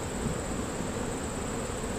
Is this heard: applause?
no